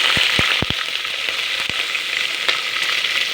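Green chillies drop into hot oil with already-fried lentils and peanuts, giving a loud, steady close-up sizzle with a few sharp pops at the start.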